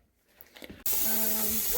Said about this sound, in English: there is definitely steam coming out of here